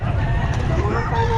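Chickens at a pet market cluck and call up close over a steady low rumble of background noise.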